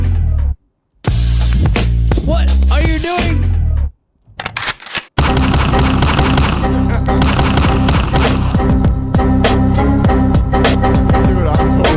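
Gunshot effects ring out inside a loud song played back over speakers, bursting among dense music after a short break, with one brief spoken question near the start.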